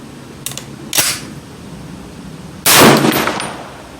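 M14 rifle fired at a 50-yard target, three sharp cracks spaced unevenly, the last one loudest with a brief ringing tail, outdoors with no talking.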